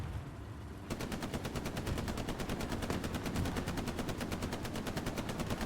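Machine gun fire in a World War II online shooter match, a long steady rapid burst of evenly spaced shots, loud and continuous after a brief rumble of background noise.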